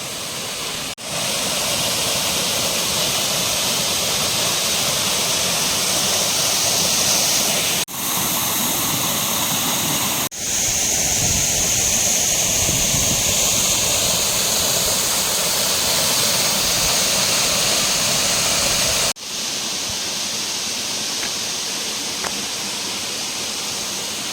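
Rushing water at the Manpilavu waterfall roars as a steady, loud broadband wash for the whole stretch, with a few brief abrupt breaks and no voices.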